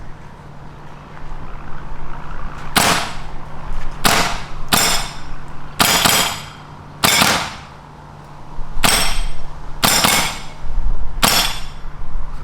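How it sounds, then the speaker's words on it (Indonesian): Umarex KWA IWI Tavor SAR airsoft gas blowback rifle firing at a target: sharp, loud single snapping shots spaced irregularly, some in quick pairs, over a low steady hum outdoors. "sekarang kita coba nembak target menggunakan Tavor SAR dari Umarex"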